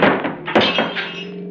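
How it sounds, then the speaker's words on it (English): Radio drama sound effect of a car crashing into a man: a heavy close thunk with breaking glass and crunching debris, a short loud impact trailing off into rattling, with no talk. "We knocked him 100 feet, Slater. But the front of the car's all smashed"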